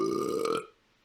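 A single loud, close burp with a tonal, drawn-out rasp, lasting about half a second before cutting off to near silence, during a televised game show.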